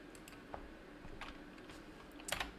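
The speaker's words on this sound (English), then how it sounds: "I'm just gonna type in." A computer keyboard clicks in quiet, irregular keystrokes while text is entered in CAD software, faint and close, ending in a short quick cluster of taps.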